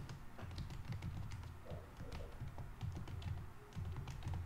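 Soft, irregular keystrokes on a computer keyboard while an email address is typed, a quiet, close run of light taps with no talking.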